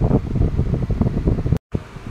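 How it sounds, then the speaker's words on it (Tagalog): Strong wind roars against a phone microphone mounted on a modular helmet during a Suzuki Smash 115 motorcycle ride, a loud, continuous buffeting rumble that cuts out briefly near the end before resuming. "sobrang lakas ng hangin"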